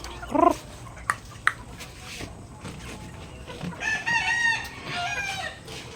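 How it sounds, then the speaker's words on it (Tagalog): Farmyard chickens clucking, with a rooster crowing partway through and a brief dog-like yelp, close and fairly quiet against an outdoor background. "Ito kung tayo mga manok."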